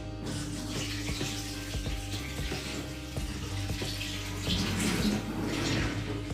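Continuous splashing rush of water poured out and discarded in a kitchen, steady and close, swelling a little louder toward the end, with no talking.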